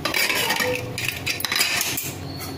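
A pressure cooker of cooked panchmel dal being opened, with metal pots and utensils clinking and scraping close by in a steady clatter, loud and without talk.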